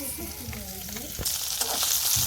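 Koi fish frying in a pan, a close, steady sizzle of hot oil that grows brighter and more crackly toward the end, with a faint voice-like murmur early on.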